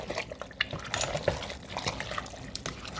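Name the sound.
stirring homemade chili in a pot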